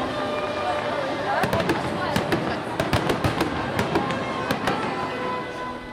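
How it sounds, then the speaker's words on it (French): Fireworks crackle and pop in rapid irregular bursts at the end of a parade, over a steady roar of crowd noise, with sharp bangs scattered throughout. "La parade s'est finie en apothéose avec l'enllumage et les fameux feux d'artifice."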